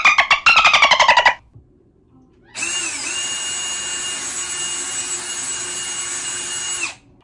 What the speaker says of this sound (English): So we have to drill two holes